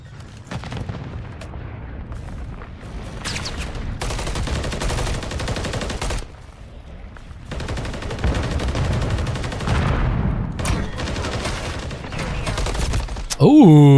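Gunfire in the video game Call of Duty Modern Warfare 3, with dense bursts of rapid shots and booming impacts across a loud, busy battle mix.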